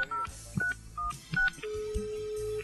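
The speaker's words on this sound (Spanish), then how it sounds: "Lo que vengo a hacer es un llamado por teléfono." A telephone number is dialed by keypad, giving a quick run of several distinct touch-tone beeps with short gaps, then a long steady tone, all fairly close with no talk.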